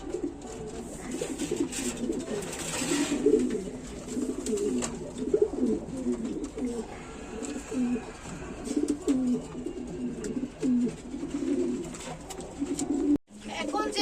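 Silver-coloured Sirazi running pigeons coo in low, throaty, repeated rolling calls that carry on throughout at close range, with faint chirps and background noise around them.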